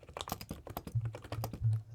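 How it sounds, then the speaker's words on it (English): Typing on a computer keyboard fitted with ceramic keycaps, a quick irregular run of bright clacking keystrokes, close and distinct, with a few heavier presses toward the end and no talking. "We're listening to my keys now."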